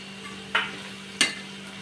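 Onion and tomato sauté in oil under a faint steady sizzle, broken by two quick spatula scrapes across the pan.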